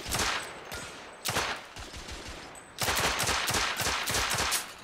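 Gunfire from The Order 1886 comes in rapid automatic bursts, several close volleys separated by brief pauses, loud and sharp, with the final burst longest.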